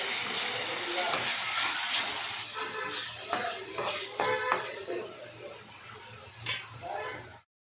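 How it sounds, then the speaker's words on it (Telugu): Onion paste frying in a pan for fish curry gives a steady, close sizzling hiss, broken by occasional stirring scrapes and light clinks of a utensil against the pan. "ఉల్లిపాయ ఇంకొంచెం ఫ్రై అవ్వాలి."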